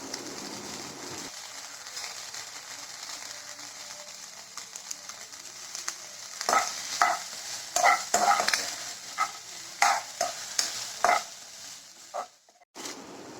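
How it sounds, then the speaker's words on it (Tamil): Okra sizzling with onions in a pan, with intermittent stirring and scraping clatter, moderately close, no talking. "வெங்காயம் கொஞ்சம் வதங்கினதுக்கப்புறம் நறுக்கி வச்சிருக்க வெண்டைக்காயை ஆட் பண்ணிக்கலாம்"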